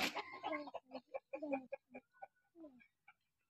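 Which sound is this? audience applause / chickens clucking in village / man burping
chickens clucking in village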